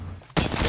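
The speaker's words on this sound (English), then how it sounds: "Getting shot at." Gunfire in an arena video game, a sudden loud burst of rapid shots that breaks in after a moment of low background noise and carries on to the end.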